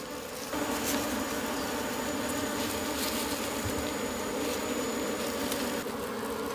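Wild honeybees swarm around a honey nest in old forest on a hillside. Their loud, dense buzzing drones on without a break, close by and with no voices.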